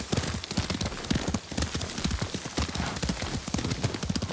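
Horse hooves clip-clop at a steady riding rhythm in the samurai video game Ghost of Tsushima, close and continuous throughout.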